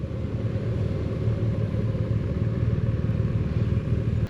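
A BMW R1250 RT motorcycle rumbles steadily nearby as it arrives, its low engine note holding an even, loud presence throughout.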